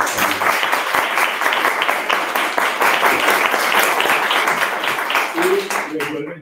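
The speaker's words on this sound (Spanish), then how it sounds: "Un aplauso muy fuerte por su presencia." An audience at an astronomy colloquium applauds loudly and steadily for several seconds. A voice speaks over the clapping as it fades near the end.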